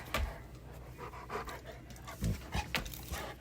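Two pet dogs panting heavily and close up, a continuous huffing rhythm with occasional snuffles and small whimpers, no talking.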